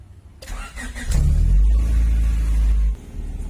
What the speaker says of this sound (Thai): ให้เราลองสตาร์ทรถดูนะครับผม